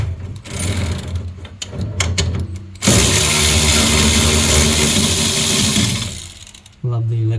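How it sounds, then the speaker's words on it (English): An electric screwdriver backs screws out of a refrigerator during a repair. Short whirring bursts come first, then one long, loud continuous whine lasts several seconds and stops abruptly, with someone talking around it. "Love the electric tool."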